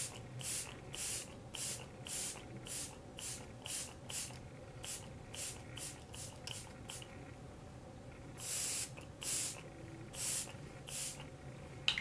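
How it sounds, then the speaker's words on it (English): A makeup setting spray mists onto a face in a long series of soft, quiet hissing pumps with short pauses between them, recorded up close with no talking. "let's try this as a setting spray before we put on mascara"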